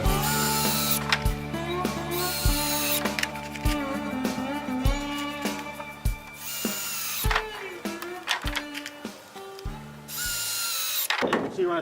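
A power drill drives fasteners to attach a 2x2 wooden runner onto a plywood guillotine-style trap door for wild pigs, in repeated loud whirring bursts with short pauses between and clacks of wood being handled.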